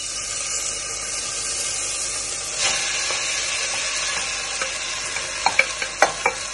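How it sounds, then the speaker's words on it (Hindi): Boiled sago pearls and mashed boiled potatoes stirred together in a hot pan, a steady soft sizzle with scraping spoon strokes that grow louder and sharper near the end, no talking. "अब इसमें मैं डालूंगा साबूदाने जो उबले हुए हैं, और जो आलू जो उबले हुए थे"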